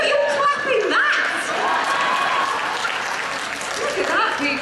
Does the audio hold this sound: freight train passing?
no